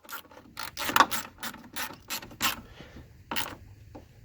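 A ratchet tightens the radiator bolts on a 2004-2009 Kia Spectra: a series of distinct close clicks and ratcheting bursts in a loose rhythm, about a dozen strokes.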